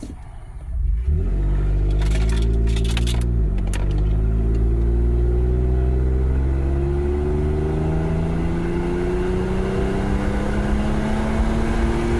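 A Toyota FJ Cruiser with a new oil pressure gauge accelerates hard at full throttle, the engine note climbing steadily and loudly after a brief pause, with a few clicks early on and no talk.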